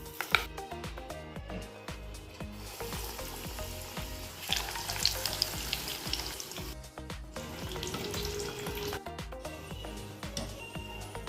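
Hot oil poured into a capsicum bajji batter mixture crackles and sizzles steadily, with stirring and a few louder pops, all under continuous background music.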